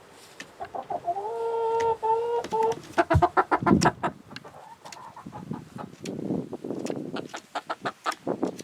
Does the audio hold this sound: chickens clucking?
yes